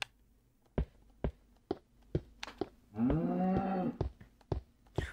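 A Minecraft cow gives one clear, drawn-out moo partway through, set among regular sharp clicks and taps from blocks being placed or broken. No one speaks.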